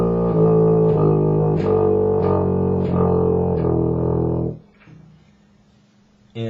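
Baritone horn sounding a low sustained tone with all valves pressed together, steady and fairly loud, swelling with slight articulations before cutting off into near silence.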